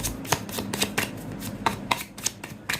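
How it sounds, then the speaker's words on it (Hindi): A deck of tarot cards being shuffled by hand, a quick run of crisp riffling flicks with a few sharper slaps, close up and alone. "इसमें से मैं थोड़ा सा शफल कर लेती हूँ, देखते हैं कौन से कार्ड्स आना चाहते हैं।"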